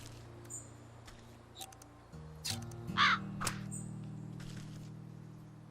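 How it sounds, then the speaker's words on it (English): A crow caws in the video game Wytchwood, a short harsh call rising over soft game music and ambient tones, fairly close and alone. "There's a crow right there."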